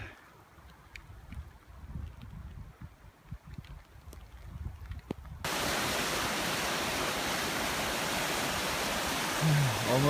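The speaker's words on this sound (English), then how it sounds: "Still raining" Heavy rain pours down on a winter hammock camp at dawn, first a quieter patter with scattered drops, then a sudden loud, steady broadband rush that fills the rest of the clip.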